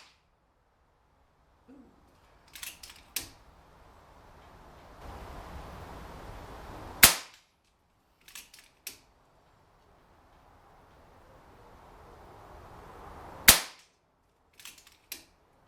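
Two sharp air rifle shots, each firing a 22 grain FX hybrid slug at sub-12 power, crack loudly about six seconds apart, each followed by a few faint clicks and soft handling noises over a quiet background.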